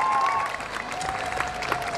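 Stormy applause from the audience at a Zhovti Vody city day celebration honours an honorary citizen. The clapping is dense and steady for two seconds under a faint sustained tone.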